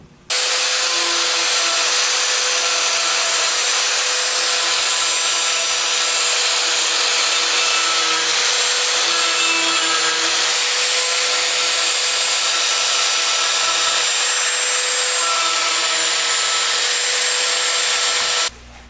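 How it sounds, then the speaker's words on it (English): Die grinder spinning a 120 grit sandpaper taper roll to smooth the port entrances of an AMC exhaust header, a steady high-pitched whine with rubbing grit that runs loud and unbroken for nearly the whole stretch. "I'm going to chuck up a sandpaper roll in the die grinder and smooth these out a little bit now."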